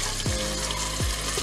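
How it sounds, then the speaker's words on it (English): Water being swirled and poured in a glass cup holding regrowing lettuce, a steady wet wash with two low sloshing gulps, soft and close, no voices. "I'm also gonna change out the water."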